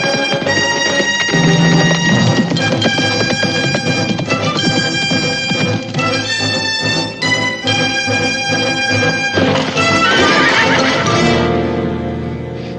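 Busy layered sound with a horse in a Western setting, harmonic whinny-like tones over a dense music-like bed, loud and continuous throughout, swelling toward the end.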